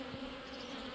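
A honey bee swarm buzzing around its queen, a steady close insect drone with a constant pitch, no voices.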